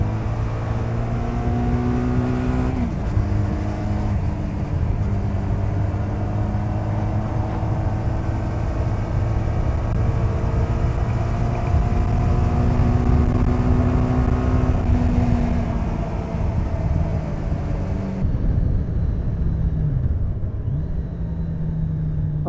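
A Yamaha FZR motorcycle accelerates hard, its exhaust rising in pitch through several gears with short dips at each shift, loud and close for the whole stretch before easing off near the end.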